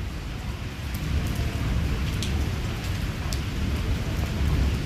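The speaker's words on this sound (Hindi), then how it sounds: "और बारिश जोरों के ऊपर जी" Torrential rain falls hard in Islamabad, a dense, steady close roar of water on surfaces that swells slightly in intensity throughout.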